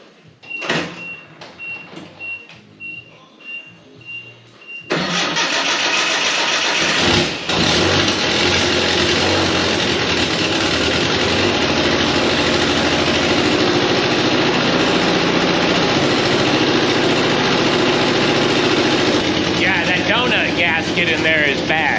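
A 1985 Nissan 720 4x4 truck that has sat for several days cranks briefly, then fires and settles into a loud, steady idle that runs without a break to the end.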